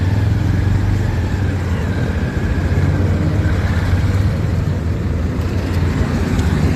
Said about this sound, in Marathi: लांबपर्यंत ट्रॅफिक लागली आहे बघा.